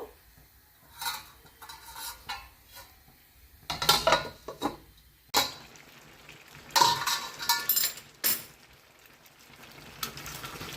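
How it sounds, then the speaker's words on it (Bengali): A lid clatters onto a metal pot of masala soyabean curry in a home kitchen, a few sharp metallic clinks and scrapes amid quiet stirring, close and fairly faint with no talking. "তো আমি আবার রান্নাটাকে ঢাকা দিয়ে দেব।"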